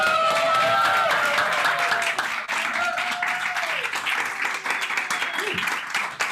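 A crowd applauds to welcome Dr. Castellanos at a mindfulness talk, loud, sustained clapping from many hands with a few whoops and cheers rising over it, easing slightly toward the end.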